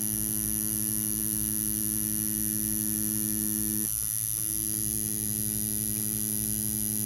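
An Ambition Ninja wireless tattoo machine runs with a constant, close, humming buzz and a fine rapid pulse. The tone stays unbroken, with a brief dip in texture midway and no talking.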